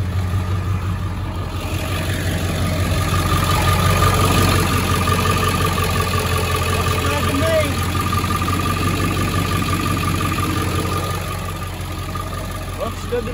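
A Ford F350 pickup truck's engine idles steadily after an oil change, a continuous low rumble with some faint background noise and a brief voice.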